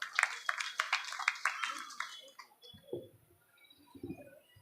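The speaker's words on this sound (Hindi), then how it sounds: "एक ज़ोरदार तालियों से जनाब सोहराब आज़मी साहब का इस्तकबाल फरमाएं" Applause rings out from the audience as a poet is welcomed to the stage at an Urdu mushaira, a dense burst of clapping that fades after about two seconds. A voice then starts speaking.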